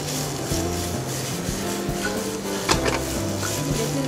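Seasoned bracken fern stir-fries in a thin pan with a continuous sizzle, while a utensil scrapes and stirs at intervals, up close and steady; a low hum runs underneath.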